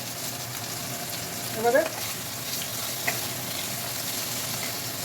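Potatoes frying in oil in a pan, a continuous dense sizzle with a brief louder stir, a voice speaking briefly over it.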